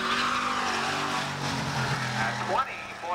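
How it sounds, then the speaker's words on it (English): A race car at Saugus Speedway roars through a corner, a loud engine note with tonal harmonics that bends in pitch as it passes, while a commentator talks over it. "Some horsepower under the hood of this one. It sounds great."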